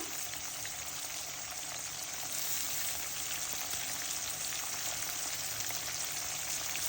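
Garlic paste hits fried onions in a pan and sets off a steady, soft, hissing sizzle that runs evenly throughout, with no one speaking.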